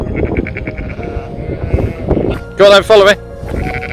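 Sheep and lambs bleating out on a walk, two loud close bleats standing out over steady talking and a scatter of fainter bleats from the flock.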